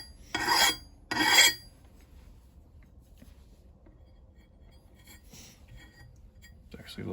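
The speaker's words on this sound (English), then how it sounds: "This is a coarser ground file" Coarse file rasping along an axe edge in two strong strokes near the start, then quiet with faint lighter strokes later.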